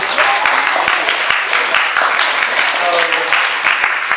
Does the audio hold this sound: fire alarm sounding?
no